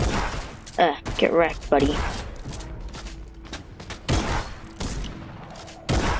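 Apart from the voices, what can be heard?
gunfire from sniping in Fortnite video game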